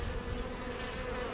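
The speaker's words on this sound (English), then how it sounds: "Now the nurse bees are checking her out, making sure she's cool." Honey bees buzz steadily around the queen inside a hive, a dense, continuous hum that stays close and even throughout with no voices.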